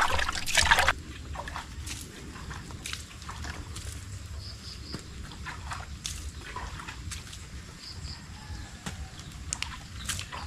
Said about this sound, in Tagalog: Hugas tayo, hugas ng paa.